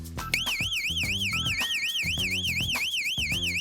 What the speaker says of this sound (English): especially when the alarm goes off